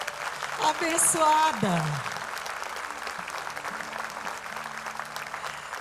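A congregation at a Sunday morning church service breaks into sustained applause, a steady crackle of many hands heard over a voice and a brief sung or spoken phrase at the start.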